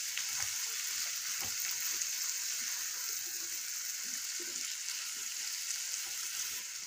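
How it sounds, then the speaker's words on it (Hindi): Mixed vegetables with biryani masala sizzle quietly in a pan for pulao as a spoon stirs through them, a steady soft hiss with faint intermittent scraping and no voices. "इन सबको हम मिक्स कर लेंगे चम्मच की मदद से, ताकि ये अच्छे से सब्ज़ी में मिक्स हो जाए"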